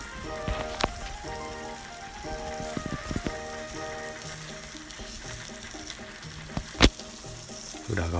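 Thick fried tofu coated in spices sizzles in olive oil in a frying pan, a steady close crackle with occasional sharper pops and stirring.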